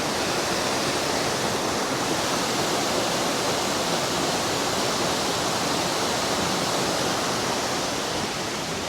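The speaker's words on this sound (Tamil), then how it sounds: "அழகாக இருக்குது பாருங்கள் அருவி. அந்த சத்தத்தை கேளுங்க கொஞ்சம்." A waterfall in the Javadhu hills of Tamil Nadu roars as a steady, dense rush of falling water, loud and unbroken throughout with no voices.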